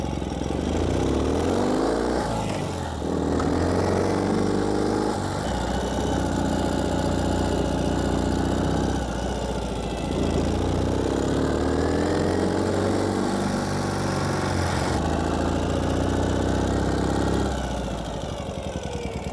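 Loud, steady engine drone of a 2016 Ural Gear Up 2WD motorcycle with a chugging pulse, its pitch rising and falling slightly in several long swells while running near a stop.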